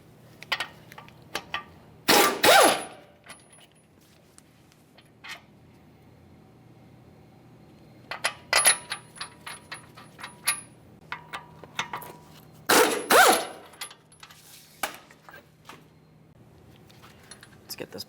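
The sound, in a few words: removing upper caliper mounting bolt, Ford F-150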